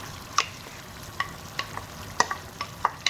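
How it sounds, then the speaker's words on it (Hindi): A spoon stirs chopped tomatoes into chicken liver curry frying in a pan, sending out a soft, continuous sizzle. Sharp clinks and scrapes break through it at irregular intervals, with nobody talking. "अब हम इसके अंदर कटे हुए टमाटर डाल देंगे"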